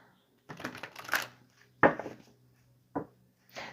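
Tarot cards are shuffled by hand in several short bursts of riffling and slapping, close by and separated by brief pauses.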